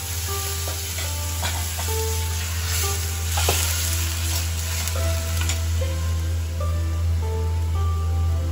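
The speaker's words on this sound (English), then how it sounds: "Now I'm adding that boiling water which have kept it separately. I'm adding this water." Steady loud sizzling and bubbling as boiling water is poured into a hot pan, with faint stirring clinks and a low hum underneath, no voices.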